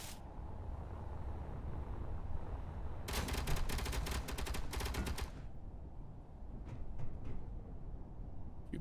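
Turret gunfire in the video game Space Engineers: a dense, rapid burst of automatic shots lasting about two seconds, loud over a steady background rumble, followed by a few faint scattered pops.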